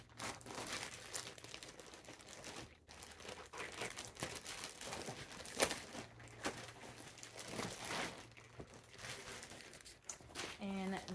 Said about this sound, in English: I'm going to take it out of this plastic.